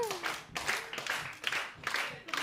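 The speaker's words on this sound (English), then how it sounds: "In time with the claps, clap along." A comedy-night audience claps along in steady time, sharp unison claps about twice a second, fairly faint and distant, with a voice speaking over the rhythm.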